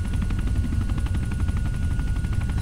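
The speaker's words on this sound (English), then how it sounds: "The question is, do we abandon our chopper there?" A helicopter in the ARMA military game makes a loud, steady rotor chop: rapid, even thumping over a deep engine drone that runs continuously at close range.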